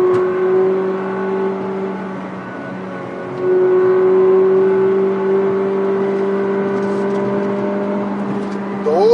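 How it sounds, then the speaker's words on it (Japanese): A Volkswagen Group car engine pulls up from about 3000 rpm to 6000 rpm under acceleration, a steady rising harmonic drone with a sporty, Ferrari-like but restrained tone, loud and close, with no talk. "今速度を落としまして、そして3000回転あたりなんですが、ここから加速します。"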